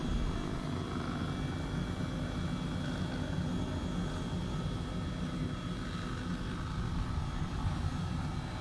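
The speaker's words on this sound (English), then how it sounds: "you'll notice that the helicopter tried to turn to the right there on takeoff" An Airbus H135 helicopter taking off in Microsoft Flight Simulator, a steady, loud rotor and turbine drone with a low rumbling beat and a faint high whine, continuous throughout with no talking.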